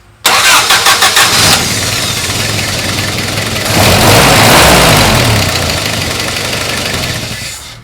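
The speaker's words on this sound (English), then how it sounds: "That's starting the engine cold." A Willys CJ3B jeep engine cranks briefly when cold with no choke, then catches and starts, settling into a loud, steady idle with a rhythmic knock, close by with no talking.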